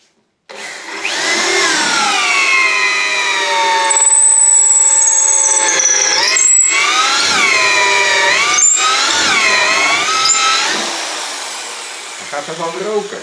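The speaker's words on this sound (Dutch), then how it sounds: "Dus het liefste boor ik in 1 keer door." A power drill bores through wood with a loud, sustained whining motor whose pitch dips and rises as it loads and strains, running almost continuously before winding down at the end.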